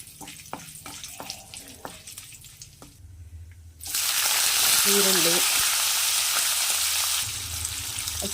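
Curry leaves, chillies and onion frying in a pan for rava upma: soft stirring clicks at first, then a loud, steady broadband sizzle bursts up midway and holds before easing slightly, with a brief voice buried under it.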